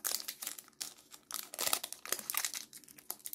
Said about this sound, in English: So let's open a pack of Pokemon Go cards.